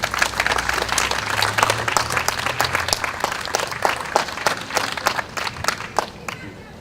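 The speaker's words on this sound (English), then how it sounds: "Give her another round of applause, please." An audience gives a round of applause at an outdoor mural dedication for an arts bridge, with dense, lively clapping that holds steady and then thins and tapers toward the end, and a faint voice mixed in.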